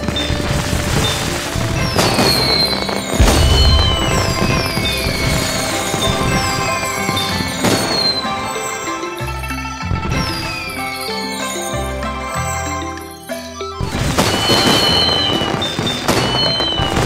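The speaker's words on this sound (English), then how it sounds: "Wow, the fireworks are so beautiful." A fireworks display in a baby panda holiday video game, loud, dense crackling bursts and whistling sparkles over a festive music track, with heavy volleys at the start and end and a calmer stretch between.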